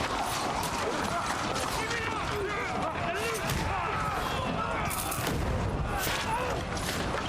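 Hand cannons fire in the medieval video game Kingdom Come Deliverance 2, repeated sharp booms and cracks amid battle din and shouting voices, with a person talking over the action.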